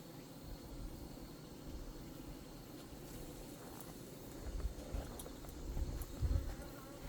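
A hornet's low buzz hums on and off nearby, swelling louder toward the end against a quiet outdoor backdrop near beehives.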